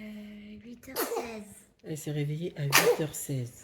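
A baby sneezes in a quick burst while an adult talks softly nearby, the sneeze set among ongoing speech in a quiet room.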